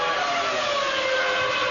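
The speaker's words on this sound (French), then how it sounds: "C'était la sirène de Takagi." A loud, steady siren wails continuously with a slightly falling pitch, close and dominant throughout.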